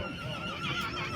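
A horse whinnies close by at the Kirovka livestock market, one wavering high neigh that fills the short moment.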